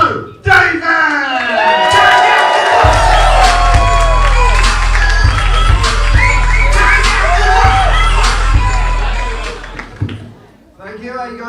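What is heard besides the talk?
audience applause and cheering welcoming comedian Joe Davis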